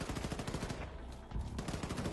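Rapid bursts of gunfire in Wolfenstein 2: The New Colossus, dense and loud throughout, with clustered shots and heavy low thumps forming near-continuous machine-gun style fire.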